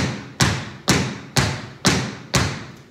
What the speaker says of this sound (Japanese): スタンプ、体重をかけて足の裏全部で乗ることをスタンプって言います。